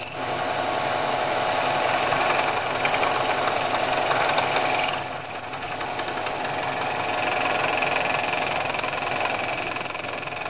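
A Chevy 292 piston is machined to shave thousandths off its compression height, producing a steady, loud mechanical grinding and rumbling drone that continues without pause.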